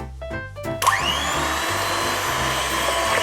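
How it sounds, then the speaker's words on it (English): An electric hand mixer beats a cake batter with melted Nestlé Aero baking chocolate, whirring loudly and steadily close up after a short clatter as it starts. "now I'm mixing the most important ingredient, the melted Nestlé Aero chocolate for baking"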